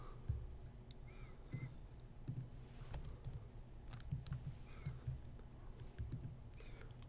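Computer keyboard keys pressed in a short, irregular run of soft clicks while formatting a document, fairly close and quiet, with no talking over them.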